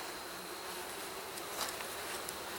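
Honeybees buzz around a nuc hive, a steady faint drone of many insects outdoors with a soft hiss of air, nearby wingbeats rising briefly, no talking.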